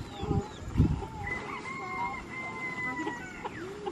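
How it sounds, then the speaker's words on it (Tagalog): Labuyo rooster, a Philippine red junglefowl, clucking on a farm in the province, with a few sharp low clucks up front, then thin whistling bird calls over a steady outdoor background. "yan ang tunay na labuyo"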